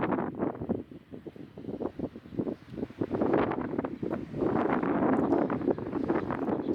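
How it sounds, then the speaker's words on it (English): Strong gusts buffeting a Suzuki Jimny on the road in New Zealand, uneven bursts of low roaring wind noise that swell and fade, growing denser and louder toward the end. "here's an example of the Jimny getting blown around like crazy. I was constantly having to fight it against the wind."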